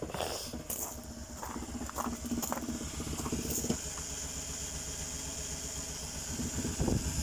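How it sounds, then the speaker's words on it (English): A small engine idles steadily close by with a rough, tractor-like chugging from the carburetor head, a low, continuous mechanical drone with a few sharper clicks and knocks over it. "that weird noise which makes it sound like a tractor is the carburetor head"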